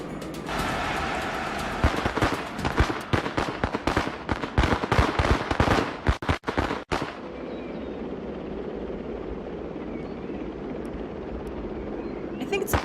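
Firecrackers set off in a riot video game crackle in a dense, loud burst of rapid pops for several seconds, then give way to a steady hiss and rumble of background noise.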